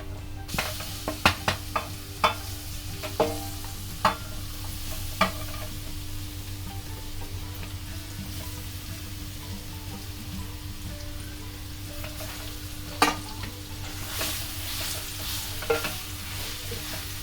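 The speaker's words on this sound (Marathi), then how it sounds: "ही बघा अशी लाल होईसर भाजून घ्यायची लसूण" Garlic frying in oil until red gives a steady, close sizzle, punctuated by several sharp utensil taps early on and a couple more near the end.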